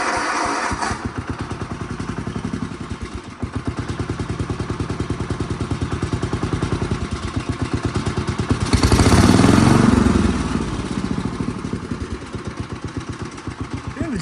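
A lawn tractor engine runs near quarter throttle, a close, rapid mechanical chugging with clatter that dips and surges unevenly, swelling louder for a moment midway before settling back.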